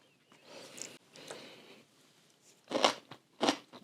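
Crisp, loud bites and crunching from chewing Swiss spring onion kimchi, softer chewing first and then two sharp crunch bursts close to the mic, with no talking.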